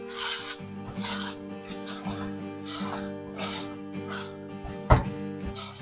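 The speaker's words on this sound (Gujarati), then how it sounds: "આ ટાઈમે આપણે પાવભાજી મેસરથી તેને થોડું ક્રશ કરી દઈએ." Corn curry (makai nu shaak) being mashed in a pan with a pav bhaji masher makes repeated soft, wet rubbing squelches in a loose rhythm, close up, over a steady hum, with one sharp clack near the end.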